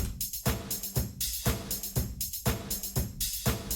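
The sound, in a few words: drum pattern with hi-hat swapped for another sound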